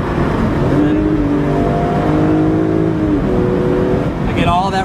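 A BMW E46 M3 convertible drives along, its engine note holding steady then stepping through a downshift with a brief rev change, loud and close, continuous throughout.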